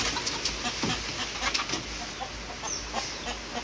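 Farm broiler chickens cluck and squawk together in a shed with fans running, a busy, moderately loud chorus of short calls over a steady airy hum.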